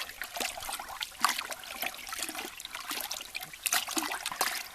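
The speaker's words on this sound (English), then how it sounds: "before I start rinsing, I like to put it in a bucket" A paintbrush is swished and rinsed in a bucket of water, producing continuous splashing, trickling and sloshing in close, uneven bursts at moderate volume, with no voices.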